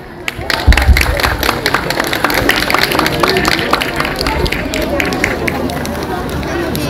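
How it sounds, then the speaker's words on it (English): Applause from a gospel event audience for junior performers about to sing a welcome song, loud, dense clapping with crowd chatter and voices mixed in, sustained throughout. "Let's give a big round of applause for our junior friends"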